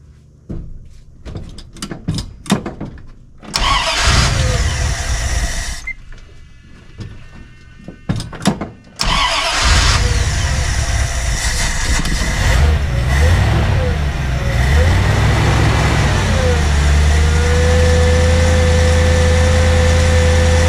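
A 1977 Dodge Power Wagon engine is coaxed into running while its carburetor is adjusted. After stop-start cranking and clatter, it settles into a loud, steady, close-up run with a low idle.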